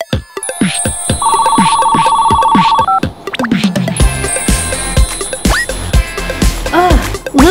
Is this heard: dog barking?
no